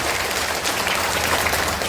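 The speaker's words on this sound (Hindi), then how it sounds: "अपने गांव भर उनके साथ चलने के लिए एक बार जोरदार ताली बजाइए आदरणीय प्रसाद जी को।" Applause from a village crowd gathered at an outdoor political rally in Bihar, a steady dense clapping that fills the short stretch without pause.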